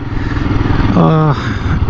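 A Royal Enfield Classic 350 motorcycle runs nearby with a steady, loud low rumble and a brief tonal blare partway through, while people talk over the engine.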